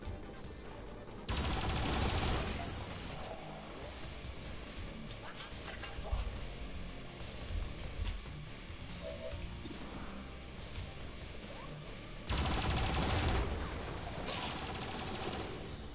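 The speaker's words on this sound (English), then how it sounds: "Let's first of all use the turrets" Turret gunfire in the strategy game XCOM 2 comes as two loud, sustained bursts of rapid shots separated by quieter combat sounds, with a voice talking in between.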